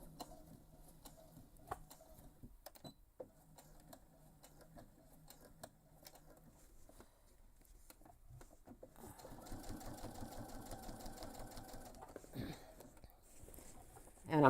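Sewing machine stitching a backpack, running in steady rhythmic bursts, quieter at first and then a sustained louder stretch of fast mechanical whirring and ticking, close up.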